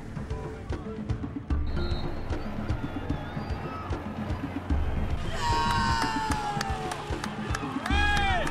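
A crowd cheers, whoops and whistles as a canoe team crosses the finish line of the 2001 Ruta Maya Belize River Challenge. The noisy, continuous outdoor celebration swells toward the end.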